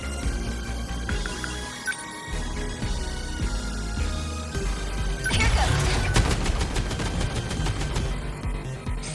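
Machine guns fire in rapid, dense bursts during a battle in 13 Sentinels: Aegis Rim, growing louder midway into a sustained chattering barrage layered over booms and background music.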